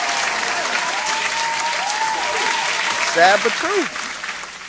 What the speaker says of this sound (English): Can I get an applause, please?